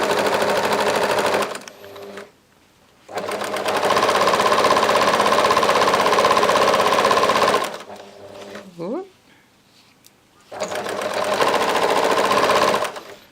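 Sewing machine stitching fabric for a scrunchie along the edge, running in long steady loud bursts with pauses between, a brief squeak in one gap; no talking.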